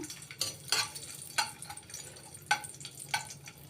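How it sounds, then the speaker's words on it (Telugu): Raisins fry in a pan as an Indian sweet is made, a faint sizzle broken by several sharp stirring scrapes and clinks against the pan, close and intermittent. "ఇప్పుడు దీనిలోనే కిస్మిస్లు కూడా వేయించుకుందాం."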